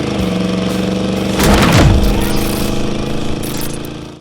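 A lifted 1979 Chevrolet Blazer 4x4 with a 350 V8 and automatic transmission runs loudly on a test drive, a steady rumbling drone with a brief swell of revving partway through.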